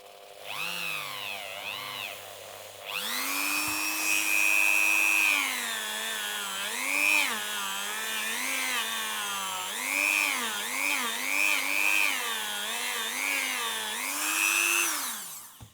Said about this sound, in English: I've got a Dremel with one of these cotton mops on and a block of honing compound